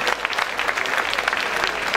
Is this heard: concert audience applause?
yes